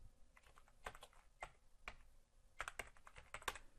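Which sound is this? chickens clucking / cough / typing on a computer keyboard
typing on a computer keyboard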